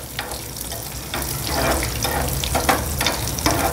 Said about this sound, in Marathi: शेंगदाणे जरासे आपल्याला भाजून लालसर करून घ्यायचे आहेत